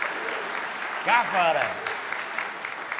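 Audience applause at an ASCAP songwriters' event, a steady bed of clapping from a crowd with a voice shouting over it briefly.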